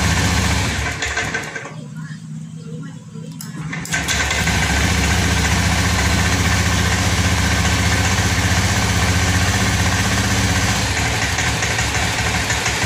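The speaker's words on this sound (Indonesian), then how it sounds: "Menyala Pak, motor menyala, stasioner." A motorcycle engine, just restarted after its fuel tank was drained, sputters, briefly drops, then settles into a steady, loud idle that runs on without change.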